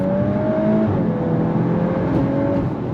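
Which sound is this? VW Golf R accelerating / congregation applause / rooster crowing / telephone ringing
VW Golf R accelerating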